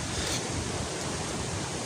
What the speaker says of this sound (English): Water streaming, rushing out to the ocean.